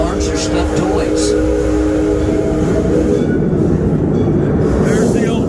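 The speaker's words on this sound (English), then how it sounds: "There's the old train." The Six Flags Over Texas railroad train rumbles along with a continuous low mechanical roll and rattle, steady and fairly loud, while a voice talks over it.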